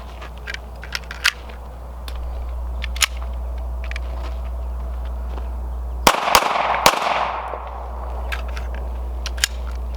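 Three rapid shots from a Hi-Point pistol crack out close together, sharp and loud against a steady low outdoor hum, with a few fainter isolated pops before and after.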